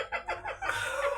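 A hen clucks several times in quick succession, up close and fairly loud, with rising and falling calls and no talking.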